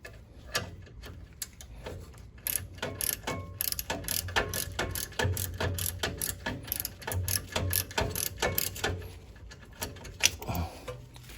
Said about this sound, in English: I'm going to a different socket head.